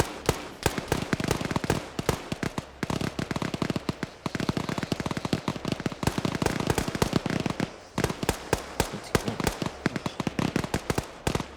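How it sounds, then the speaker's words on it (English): M249 machine gun in a video game blind firing in long, rapid sustained bursts with only brief pauses, loud and close throughout. "You gotta respect the 249 though. Just blind firing up there"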